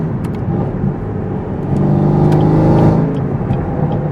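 A Chevrolet Camaro ZL1 engine with a new tune hums steadily on a freeway on-ramp, then swells into a louder, throaty acceleration before easing back, heard from inside the car.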